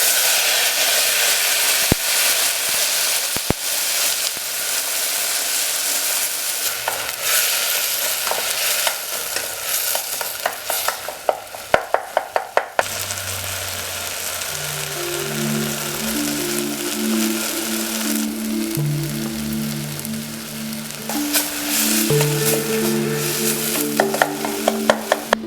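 Cumin seeds and chopped tomatoes frying loudly in a hot pan, a constant sizzle with scraping stirs and clinks, then a sustained electronic tone entering partway through.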